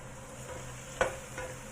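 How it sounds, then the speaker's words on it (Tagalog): Curry powder sizzles in a hot pan for chicken curry, a steady soft frying hiss with one sharper stir or scrape near the middle. "So, yung powder ilalagay na natin. Ayan. So, i-fry lang natin ulit."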